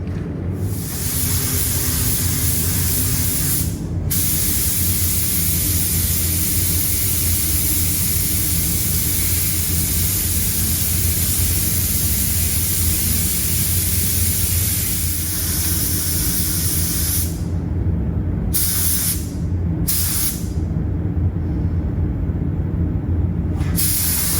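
A spray gun lays spatter paint inside the trunk of a 1970 Chevelle, giving a steady, loud hiss that runs unbroken for the whole stretch. A few short breaks in the high end come toward the finish.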